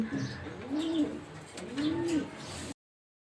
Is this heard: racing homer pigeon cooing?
yes